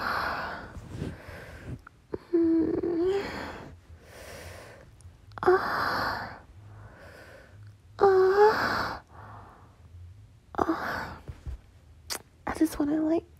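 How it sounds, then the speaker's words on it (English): Soft, intimate breathing for ASMR, with breathy sighs and gasp-like exhales in bursts, some voiced, interleaved with quieter pauses, close to the microphone. "give you like some relaxing breathing"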